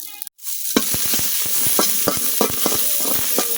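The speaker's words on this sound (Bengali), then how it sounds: "এখন আমি মরিচ গুঁড়ো ভাজা নিলাম।" Chili powder fries in a pan, a dense close sizzle with a steady rhythm of stirring knocks and scrapes running throughout.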